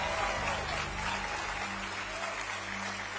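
A large crowd at a Trump speech applauds and cheers in a dense, continuous roar of clapping that holds steady throughout, heard from within the audience.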